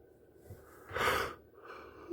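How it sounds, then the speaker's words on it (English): A single breathy yawn from a man, close and soft, swelling into a drawn-out airy exhale in the middle and fading away in an otherwise quiet room. "so I have to yawn."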